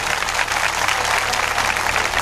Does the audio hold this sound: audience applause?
yes